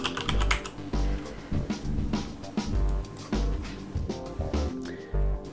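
Computer keyboard typing in a software demonstration: bursts of quick key clicks repeating in an uneven rhythm across the whole stretch, close and fairly quiet, with a soft tonal bed underneath and no talking.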